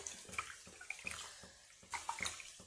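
Hands squishing and swirling tamarind, chili powder and salt in water in a kitchen, producing faint close sloshing and dripping splashes in short uneven bursts.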